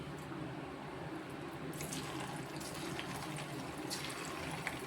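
Chicken pieces for Chicken 65 dropped into hot oil in a pan on the stove, giving a steady hissing sizzle that brightens and grows busier partway through; no talking over it.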